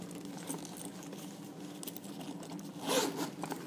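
A zipper on a Coach tote purse is pulled close by with steady, rapid ratcheting clicks that swell into a louder burst near the end.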